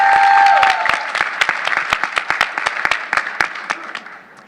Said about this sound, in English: One more round of applause for them